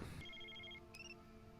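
An old-style telephone bell rings from a TV show, a bright repeating trill heard twice in quick bursts over a low steady hum, moderately faint and with no voices.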